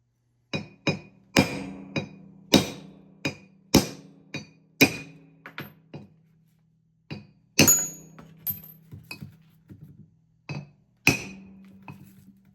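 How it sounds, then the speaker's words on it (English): Sharp metallic hammer strikes ring out one after another as studs are punched from a brake master cylinder on a 1971 Dodge Charger Super Bee, irregular clusters of close, loud blows separated by short pauses. "Punch out these studs."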